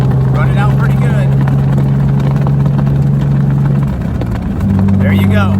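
A Jeep Wrangler converted into an H2 Hummer drives down the road in third gear, its engine a steady, loud, low drone that dips briefly near the end before settling again.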